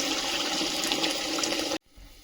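Hot water pours steadily into a kadai over onions and green chillies, a loud, continuous gushing rush that cuts off abruptly, leaving a quiet hiss.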